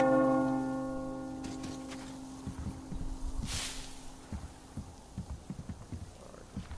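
A church bell in the video game Metro Exodus rings with a long sustained tone that slowly fades, followed by a burst of wind-like noise and scattered low thuds; moderately faint, no talking.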